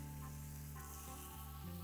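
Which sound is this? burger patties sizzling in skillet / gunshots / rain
burger patties sizzling in skillet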